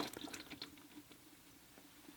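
A fan brush stirs a watercolor rinse container of water to loosen sediment from the bottom, giving soft, close, faint sloshing and dripping swirls that continue for a couple of seconds with no talking.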